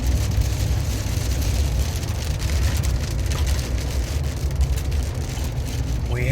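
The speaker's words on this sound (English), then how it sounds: "we have a rain shower" A rain shower falls outdoors during lawn mowing work, giving a dense, steady hiss of drops on surfaces, with faint low rumble underneath and no speech.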